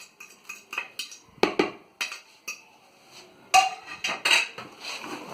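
Eggs being mashed by hand with lettuce in a dish while making egg food for lovebirds, heard as a string of close clinks, taps and scrapes against the dish, irregular and moderately loud, with no talking.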